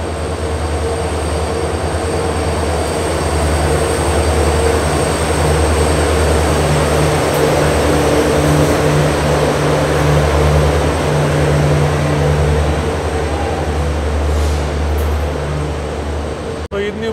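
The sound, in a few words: WAP-7 electric locomotive of Jan Shatabdi Express at station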